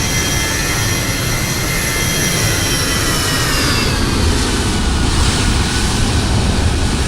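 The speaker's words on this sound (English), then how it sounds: "There's another plane there about to take off." A jet airliner in Microsoft Flight Simulator roars down the runway on takeoff, its engine whine and rumble loud, steady and continuous throughout with a rising high tone.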